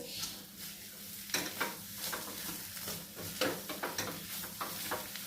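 Thick kozhukattai dough is stirred in a hot pan, a continuous close scraping and soft thudding of the spoon against the metal, with a faint sizzle underneath and no voices.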